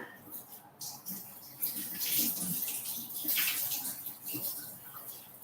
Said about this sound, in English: I'm just going to also give those carrots a little wash.